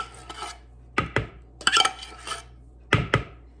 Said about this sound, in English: We're gonna mix all this stuff up into a bowl.